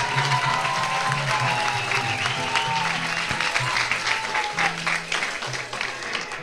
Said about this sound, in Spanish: El aplauso fuerte se lo lleva Don Cruz Jiménez.